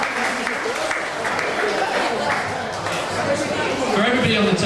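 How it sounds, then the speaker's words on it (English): Wedding party guests clapping in a steady, dense round of applause that carries through the whole stretch, with crowd chatter mixed underneath. "Round of applause."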